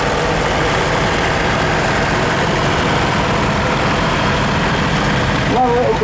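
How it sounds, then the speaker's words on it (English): A Massey Ferguson 35 tractor with a Perkins three-cylinder engine runs at a steady, loud chugging idle during an arena parade of historic tractors at an autumn show, with a voice talking over it. "We've got a lovely Massey Ferguson 35 here. It's got a 3-cylinder Persons engine in it."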